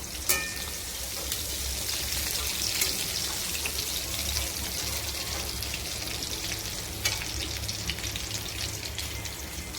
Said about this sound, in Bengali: চিংড়ি মাছটা ভাজা হয়ে গেছে এবার মাছটাকে তুলে নেব